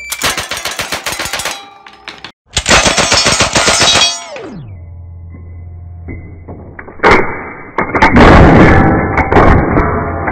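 Rapid fire from off-the-shelf non-semi-automatic rifles: dense, loud bursts of quick shots, separated by short pauses and a trailing low rumble. No voices are heard.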